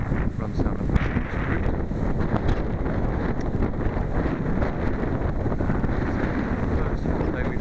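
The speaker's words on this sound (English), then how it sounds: "Cold and rain, but it's very, very windy." Strong, steady wind buffets the microphone of a cyclist riding through cold, rainy countryside lanes near York, a continuous loud roar with low rumbling gusts throughout and no clear talk.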